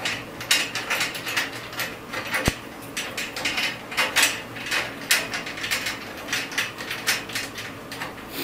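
A ratchet wrench tightens a solar panel mount on a corrugated roof, giving repeated close clicking bursts in an uneven rhythm of strokes.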